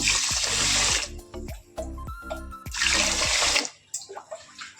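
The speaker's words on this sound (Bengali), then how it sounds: "জল থাকতে চালটা ধুলে বেশ ভালো হয়" Tap water runs and splashes into a vessel while rice is washed by hand, coming in loud gushes broken by quieter clinks and sloshes, then stopping near the end.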